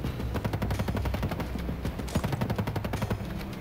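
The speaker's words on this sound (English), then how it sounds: "Where is that guy shooting from?" Rapid gunfire rattles through a firefight in the video game Ghost Recon, repeated fast automatic bursts, loud and close, with brief gaps between volleys and no talking.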